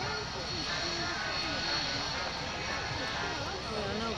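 Harrier jet taxiing at an airshow, a loud continuous engine roar and whine filling the air throughout, with announcer speech over it.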